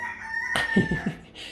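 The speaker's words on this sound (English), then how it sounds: "you're going to be hearing the roosters in the background" A rooster crows briefly in the background, a short faint call with a few clucky notes, heard at a distance.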